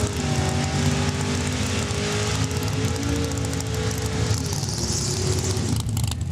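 The 1927 Roadster race car runs at a drag strip at Saskatchewan International Raceway, a loud, steady engine drone with strong low harmonic bands that hold level for about six seconds before thinning near the end.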